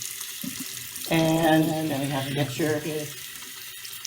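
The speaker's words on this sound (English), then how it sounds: "So, first step is to turn on the water." Tap water runs steadily into a sink for handwashing, a loud continuous splashing rush that starts abruptly partway through, with a voice talking over it.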